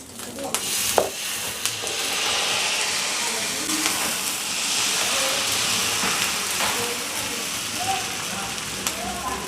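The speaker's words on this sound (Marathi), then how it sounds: "आणि मग पाण्याचा शिडकाव द्यायचा आहे" A steady broad hiss of water sprinkled on a hot dosa griddle, with a few sharp crackles and clicks scattered through.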